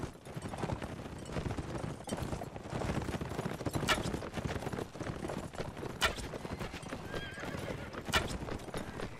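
Rapid hoofbeats gallop steadily while a horse neighs and whinnies several times, with scattered sharp bangs and busy effects layered underneath, in the video game Mount & Blade.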